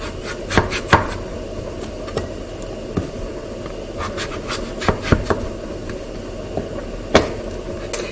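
A knife chops butternut squash on a cutting board for soup, with a string of sharp, irregular thunks and knocks over quiet kitchen background.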